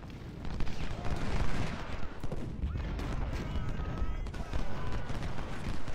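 Rifle fire from a Civil War battle in the Ultimate General: Civil War strategy game, a river-crossing fight. Dense, crackling volleys roll on without a break, with a voice talking over them.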